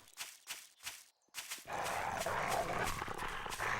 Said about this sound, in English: Another dog.